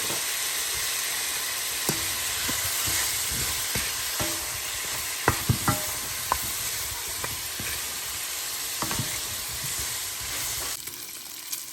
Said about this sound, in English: after adding the seasoning and some fish sauce and stirring it to make sure the seasoning is evenly on the meat